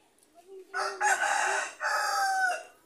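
A large black-fleshed rooster crows once, loud and near, a long drawn-out call rising then trailing off, with a soft cluck just before it.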